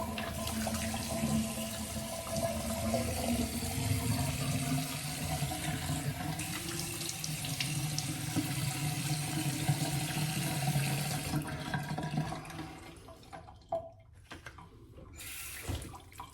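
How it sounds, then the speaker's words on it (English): Cold water runs steadily from a bathroom tap into a sink, a continuous close splashing rush that changes and breaks up toward the end. "run some cold water"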